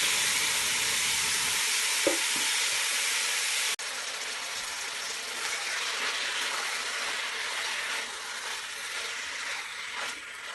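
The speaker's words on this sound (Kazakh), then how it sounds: "Қуырылып жатқан пиязымыздың үстінен етімізді саламыз. Және де жақсылап қуырып аламыз." Meat dropped onto frying onions in a pan for kuyrdak, a dense close sizzle and hiss that jumps in level at the start, then settles into a continuous loud crackle with a brief clack midway.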